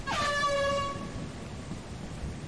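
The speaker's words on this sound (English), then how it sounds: "At least I can hear the air horn." The air horn item in the video game Lethal Company blares a single loud, sharp honk lasting under a second, trailing off into low background noise.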